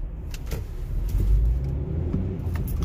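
A car idles and creeps along in a traffic jam, a steady low engine hum with a slight swell in the middle and no talking.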